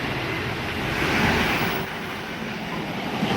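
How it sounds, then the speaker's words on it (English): A freight train passes at Rugeley Trent Valley in a train simulator game, heard as a steady, loud, broadband rumble and rush with no talking. "Got a freight train."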